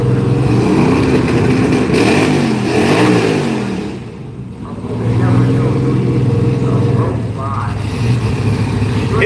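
Hemi-powered race car at Orlando Speed World drag strip revving hard, a loud sustained engine roar that dips briefly and swells again, with a voice talking over it.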